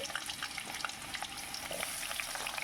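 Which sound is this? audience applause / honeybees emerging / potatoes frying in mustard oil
potatoes frying in mustard oil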